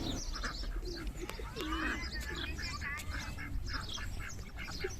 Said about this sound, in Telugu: పావురాలు